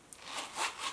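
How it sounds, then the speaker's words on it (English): Zipper of a Louis Vuitton zippy coin purse being pulled: a smooth, continuous close-up rasping slide lasting under a second, with slight swells as it runs. "oh, the zipper is so smooth."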